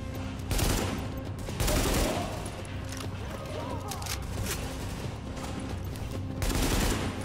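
Rapid bursts of gunfire from the video game Tom Clancy's The Division in hard mode multiplayer, several loud volleys rising over a dense, rumbling battle background.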